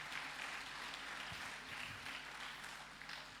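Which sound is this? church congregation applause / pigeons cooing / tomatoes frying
church congregation applause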